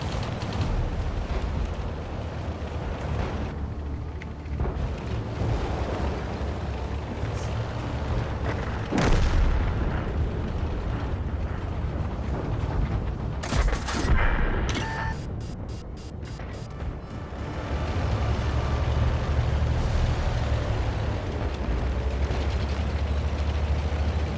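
Tank cannon fire and explosions in World of Tanks: scattered deep booms over a constant engine rumble, with a sharp blast near the middle followed by a quick run of rapid pulsing bursts, then a steady low drone.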